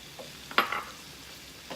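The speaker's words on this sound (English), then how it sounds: "And now I'm going to put the tomatoes in. Turn the heat up just a little bit." Tomatoes and basil sizzle in a hot pan for gnocchi with fresh tomato sauce, a soft background crackle broken by one sharp burst of spattering and stirring near the start.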